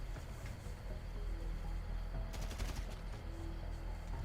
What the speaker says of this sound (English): And then you can make your way over to this and shoot this guard.